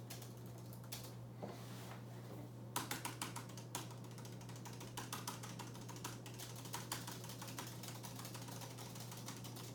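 Steady rapid typing on a computer keyboard, clicky keystrokes in an irregular rhythm over a low constant hum.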